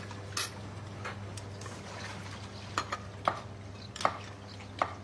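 A kitchen knife strikes a cutting board in a few sharp, irregular chops over a low, steady background hum.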